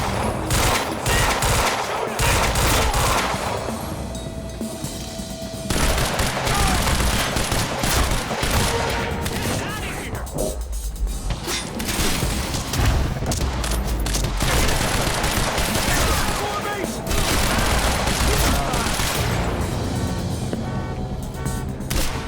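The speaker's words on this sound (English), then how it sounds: "He's got a gun! Open fire!" Sustained automatic gunfire from a firefight in the video game Quantum Break, dense bursts of shots rattling almost continuously with a brief lull, loud and busy throughout.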